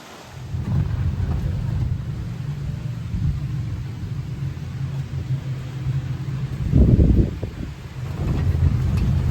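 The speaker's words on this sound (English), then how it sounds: "And it's raining." Steady rain and low rumble fill the ride back on a tram in Hawaii, a continuous wash of noise with a louder surge partway through and no talking.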